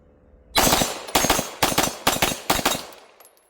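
Five sharp pistol shots from an MPA DS9 LOC MK2 firing 115-grain rounds at an outdoor range, spaced about half a second apart, loud and close, each with a short ringing decay.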